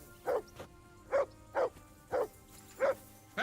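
A dog barks repeatedly in the game Kingdom Come: Deliverance II, six or seven short, evenly spaced barks at close range over a quiet background.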